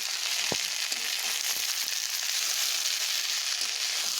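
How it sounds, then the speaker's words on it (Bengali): Pointed gourd and carrots fry in a pan, a steady close sizzle running throughout with a few soft stirring knocks and no voices. "এবার ভালোভাবে সবগুলোকে মিশিয়ে এখন একটু কষিয়ে নেব।"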